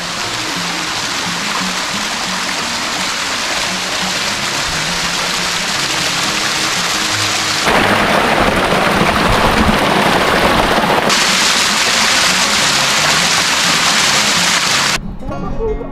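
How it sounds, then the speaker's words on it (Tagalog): Steady broadband rush of a natural running stream at Anyap Falls and Nature Park, loud and continuous throughout, growing slightly brighter and stronger midway before cutting off near the end. "Natural running water."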